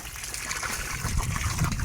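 Water brought from home on a farm gushes steadily as it is poured into containers for watering and spraying crops, a close, continuous splashing rush with no talk.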